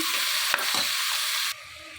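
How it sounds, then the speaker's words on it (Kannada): Chopped beetroot with salt fries in oil for a kurma, a steady close sizzle with a single utensil tap, the hiss dropping sharply quieter toward the end, with no talk. "ಇವಾಗ ಚೆನ್ನಾಗಿ ಎಣ್ಣೆ ಒಳಗೆ ಒಂದು ಎರಡು ನಿಮಿಷ ಫ್ರೈ ಆಗಲಿ"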